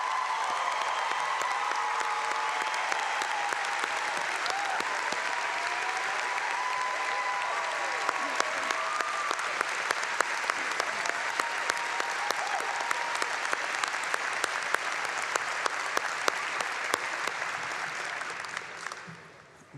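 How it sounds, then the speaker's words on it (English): A commencement audience breaks into sustained applause for a graduate, dense clapping from a large crowd filling the hall. It holds steady with a brief voice over the start, then fades out at the end. "we'll give you a round of applause"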